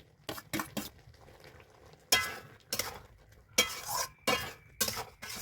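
Chopped tomato goes into a pan of egg tarka, followed by repeated loud scraping and clattering strokes of a spatula stirring against the pan, close up over a faint sizzle, with no voices.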